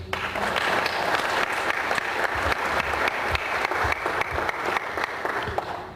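An audience at a conference claps steadily for several seconds, a dense, even burst of applause that tapers slightly at the end.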